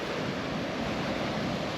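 Ocean surf rolls in steadily at a beach in Los Cabos, Mexico, a broad continuous wash of breaking waves with some wind rumble, close and fairly loud throughout.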